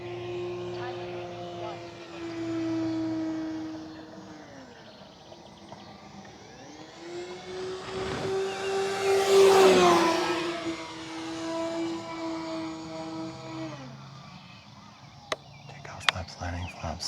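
An E-flite Beechcraft D18 RC model airplane, a 1.5 m twin, applies forward thrust, its motors whining in rising and falling tones that swell loudest mid-clip as it passes close, with someone speaking over it outdoors.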